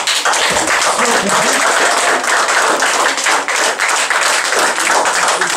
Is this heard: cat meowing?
no